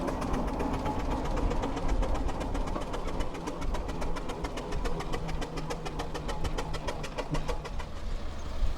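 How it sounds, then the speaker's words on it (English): Clayton and Shuttleworth steam traction engine Louise chuffs steadily as it leaves a colliery village on a road circuit, its rapid rhythmic exhaust beats and mechanical clatter continuous and fairly close throughout. "leaving the pit village, is Clayton and Shuttleworth's Louise, on its way for another run round Beamish Road Circuit"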